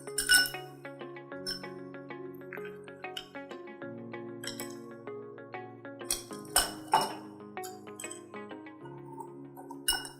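Ice cubes drop into a glass while a paan-flavoured mocktail with mint leaves is being made, giving a series of sharp, bright clinks scattered through the clip over a steady musical background.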